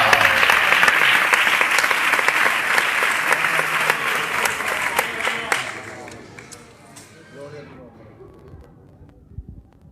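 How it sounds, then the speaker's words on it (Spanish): A church congregation claps loudly and continuously for about five seconds during a sermon, then the clapping thins out and fades, leaving scattered claps and voices in a quieter room. "Aplaude a Dios, aleluya."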